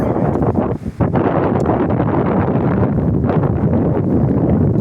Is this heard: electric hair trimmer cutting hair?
no